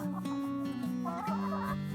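Nearby chickens give a short run of low, throaty clucks and murmurs, continuous and fairly close for about two seconds.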